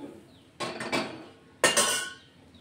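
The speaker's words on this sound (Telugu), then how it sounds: "వేసుకొని ఒకసారి మంచిగా కలిపేసుకుంటానండి." Dry semiya vermicelli tipped into a pot and mixed, giving two separate bursts of scraping, rustling clatter against the pot with quiet gaps between, close and moderately loud, no talking.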